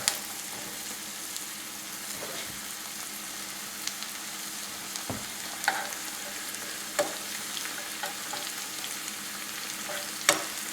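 Garlic sizzles steadily in a hot pan for a ramen dish, a continuous fine crackle with a few sharper pops and clicks scattered throughout, moderately loud and close, with no talking.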